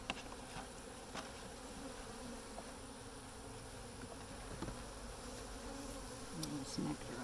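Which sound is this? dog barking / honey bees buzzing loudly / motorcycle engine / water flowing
honey bees buzzing loudly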